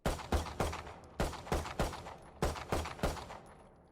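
Pistol shots from left-click firing in the video game Valorant: about a dozen sharp, close reports in quick groups of two to four, each with a short decaying tail.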